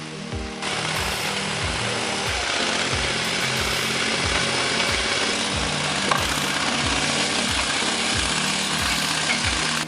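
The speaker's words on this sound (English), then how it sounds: "Watch the impressive towing capabilities of these radio-controlled beasts on the snow, powered by their powerful engines." Radio-controlled trucks run their engines on snow, giving a steady, loud mechanical drone with a fast, regular pulsing throb that continues without a break.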